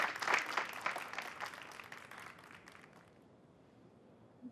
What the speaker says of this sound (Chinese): 掌声送给他，掌声送给他